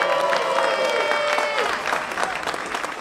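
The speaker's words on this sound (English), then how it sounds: "Clap it up one more time for Angie" A small indoor audience claps and cheers for a woman called up front, a dense burst of applause with some whoops and voices mixed in, close and lively throughout.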